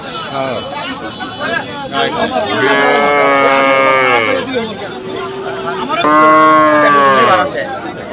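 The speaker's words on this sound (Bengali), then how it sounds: "আজকে তো প্রচুর গরু উঠেছে" Cattle at a busy village livestock market, several loud close moos, long and drawn out, over a background of crowd babble and talk.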